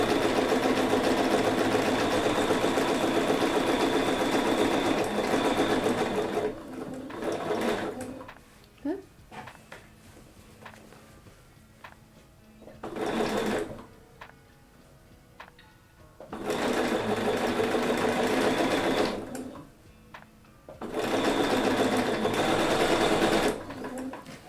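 A sewing machine stitches a quilt in loud, fast, whirring bursts of several seconds each, broken by quiet pauses, running close by with occasional faint handling noises in the gaps.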